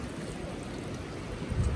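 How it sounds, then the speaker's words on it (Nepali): Hot spring water at Tatopani, Sikles, bubbling and gurgling at a steady, close, moderately loud level, with a low churning rumble that swells near the end and no talking. "अँ यहाँ त उम्लेछ पानी ओ यस्तो उम्लिराख्ने"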